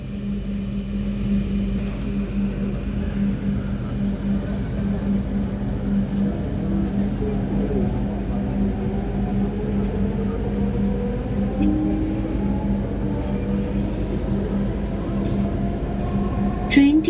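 A Dhaka Metro train running between stations, with a steady, loud rumbling drone and a constant low hum throughout, rising pitch whines as it moves, and a brief clunk near the end; no talk is heard.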